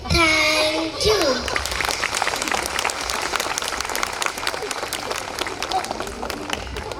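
Audience at a school Independence Day cultural program clapping for young performers, starting as a burst of applause with a voice and settling into steady, dense clapping with light crowd chatter.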